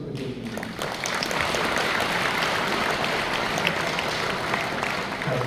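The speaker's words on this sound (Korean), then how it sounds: "다시 한번 박수 부탁드리겠습니다" Sustained audience applause fills a hall during a Korean church peace gathering marking the 80th anniversary of liberation, steady dense clapping at even loudness for several seconds with no voices on top.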